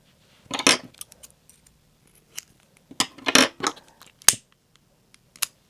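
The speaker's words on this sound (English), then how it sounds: "cut the excess" Scissors snip away excess fabric for a summer fabric flower earring, making a few crisp, close cutting bursts separated by quiet pauses, with brief metallic clicks between them.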